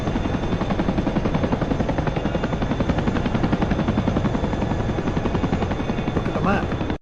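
Chinook helicopter in the DCS flight simulator, its rotors a loud, continuous rhythmic thudding chop that runs steadily and cuts off abruptly at the end.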